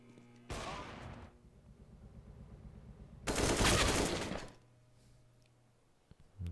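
Two bursts of rapid gunfire from a Tec-9 in a Counter-Strike-style competitive match, loud and close, the first brief and the second longer, separated by quieter game ambience.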